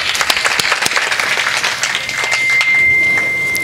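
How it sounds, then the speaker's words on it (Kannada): Loud audience applause at a religious award ceremony honoring a swamiji, sustained clapping from a large crowd that swells slightly toward the end, no talking over it. "ಎಲ್ಲರಿಂದ ಒಮ್ಮೆ ಜೋರ ಚಪ್ಪಾಳೆ ಬರಲಿ"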